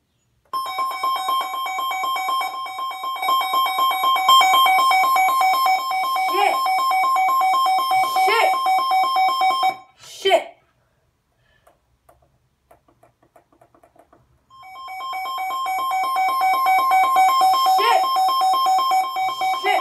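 Weather alert alarm ringing loudly from a nearby device, a sustained electronic tone that sounds for about nine seconds, drops to near silence with a few faint clicks, then starts ringing again.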